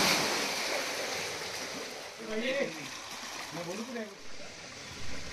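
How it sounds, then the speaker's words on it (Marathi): Mountain water from the source of the Alakananda river comes down, splits into seven streams and pours into a large temple tank at Sapteshwar temple, Sangameshwar, Ratnagiri. It makes a steady broadband rush throughout while a voice talks over it. "डोंगरावरून अलकनंदा नदीचा उगम आणि त्याचे खाली येणारे पाणी 7 प्रवाहात विभागून ते एका मोठ्या कुंडात सोडले जाते"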